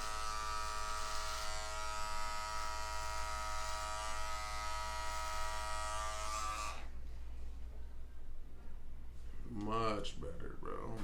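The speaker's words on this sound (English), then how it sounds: "that's why I'm using my Fade Masters, because you can hear it cut" Fade Masters electric beard trimmer buzzing steadily and loudly as it cuts a beard for about seven seconds, then stopping, with a voice briefly speaking near the end.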